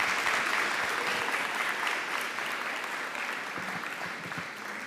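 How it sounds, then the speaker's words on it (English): A school board meeting audience applauds students with steady, dense clapping that tapers slightly toward the end. "All right, if you wouldn't mind giving them a nice round of applause."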